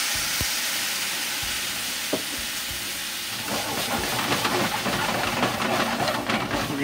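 Tomato basil sauce sizzling and hissing steadily in a pan, with a splash of wine added, giving a continuous close bubbling crackle that thickens and grows busier partway through, no talking.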